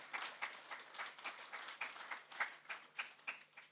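A small audience claps for parents at a junior school graduation ceremony; the applause is faint and distant, with sparse, evenly spaced claps throughout.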